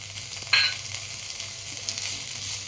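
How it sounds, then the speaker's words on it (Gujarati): Cabbage with ginger-chili paste sautéing in a pan, a continuous gentle sizzle with a sharp metallic scrape of the spoon early on and softer stirring scrapes after. "એને પણ આપણે સરસ સાતરી લઈશું."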